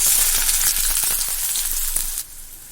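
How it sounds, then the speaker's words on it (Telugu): Chopped onions hit four tablespoons of hot oil in a kadai, making a loud, close, hissing sizzle with crackling bursts that drops to a softer simmer near the end. "ఆయిల్ వేడెక్కాక కట్ చేసిన ఆనియన్స్ ముక్కలు ఇందులో వేస్తున్నానండి"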